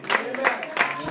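A church congregation at a Haitian Baptist service claps for the preacher, with brisk rhythmic handclaps in quick bursts under a voice speaking.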